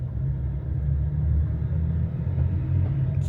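A Range Rover L322 TD6 with an 8HP gearbox drives along, a steady close low engine rumble with slight fluctuations as it moves through the gears.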